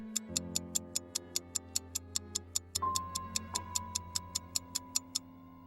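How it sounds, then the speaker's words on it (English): Loud, evenly spaced clock ticks run as a sound effect from start to finish, crisp and close, over a low ominous droning score that shifts midway, with no one talking. "Then I heard a loud ticking noise"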